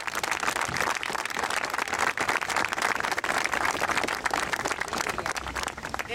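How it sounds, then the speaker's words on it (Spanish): Applause from a crowd gathered at an indigenous peoples' encampment in a public plaza: a thick, continuous wash of clapping and crowd noise that stays loud and even throughout. "señoras Mirta Baravalle y Norita Cortiñas, le pido un aplauso a ellas porque son..."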